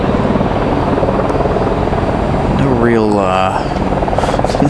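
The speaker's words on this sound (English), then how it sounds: "as you guys can hear a lot of helicopter movements" Helicopter rotors thrum steadily in the background at night near Raleigh-Durham International Airport while a person speaks briefly over the noise.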